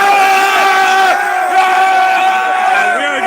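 A large crowd at a football championship game in Jerusalem, Israel, roars and cheers in a loud, steady wash of voices with sustained shouts and whoops throughout.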